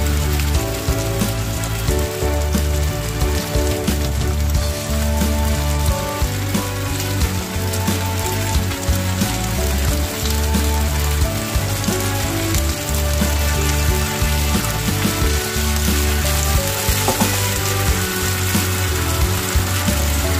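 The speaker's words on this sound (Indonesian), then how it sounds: "kemudian saya aduk-aduk, sering aduk-aduk ya guys, supaya petainya itu juga tetap matang, cepat matang gitu loh" Petai beans frying in oil in a pan, a loud, dense, continuous sizzle much like heavy rain, steady throughout with tonal background sounds layered beneath.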